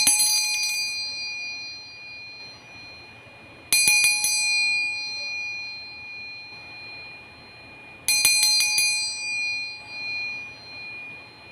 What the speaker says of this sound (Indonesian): kita akan lanjutkan dengan memulai lonceng berbunyi